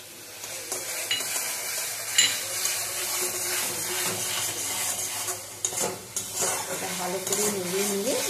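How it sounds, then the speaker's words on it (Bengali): A spoon stirs pizza sauce with jaggery, chili powder and oregano in a hot pan, scraping and clinking against the metal over a constant sizzle, close and fairly loud. "ভালো করে নেড়ে নিয়ে যখন জলটা শুকিয়ে যাবে"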